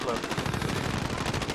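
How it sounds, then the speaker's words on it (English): A light machine gun fires in a sustained automatic burst during a video game, its rapid rhythmic shots loud and continuous across the whole moment, with a voice faintly present underneath. "A whole freaking LMG clip."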